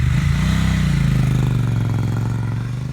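Stock exhaust of a water-cooled Triumph Bonneville T100 motorcycle, a loud, close, steady low burble that rises slightly in pitch as the engine picks up, with no talking.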